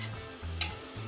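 Tomato paste frying in a pan over softened onions: a steady close sizzle with a couple of brief stirring scrapes, heard alone.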